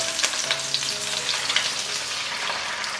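Shallots, ginger slices, cinnamon, star anise and bay leaves sizzle loudly in hot oil as soy sauce goes in, a dense steady crackle with bright spitting pops close up and no talk.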